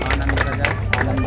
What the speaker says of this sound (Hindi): मातृ शक्ति के लिए बहुत बहुत भाई ताली बजा करके उनका स्वागत कीजिए